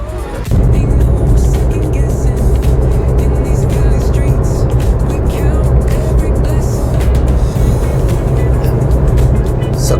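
A Maruti Eeco running on CNG drives along a highway, its engine a steady loud drone with road and wind noise throughout, the level holding constant after a brief quieter start.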